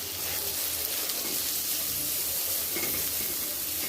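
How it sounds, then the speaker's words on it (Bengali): A roast cooks in spices in a pan, giving a steady, close, broadband sizzle that holds for a few seconds without pause. "আমি আজকে একটু রোস্টের মশলা দিয়ে হচ্ছে রোস্টটা রান্না করতেছি"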